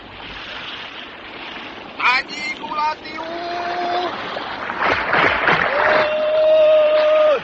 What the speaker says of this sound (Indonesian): Mereka sedang menyeret perahu ke darat.